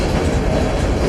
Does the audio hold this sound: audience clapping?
no